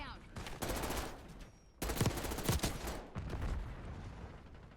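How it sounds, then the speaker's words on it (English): Bursts of automatic gunfire and single shots crackle in a shooter video game, coming in rapid clusters separated by short pauses. "They're shooting, by the way, real bullets at me."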